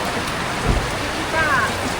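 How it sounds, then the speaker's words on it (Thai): Rain falling during a trip to Vang Vieng, Laos, a steady broadband hiss of drops with a faint voice briefly in the background. "ฝนตกต้อนรับ"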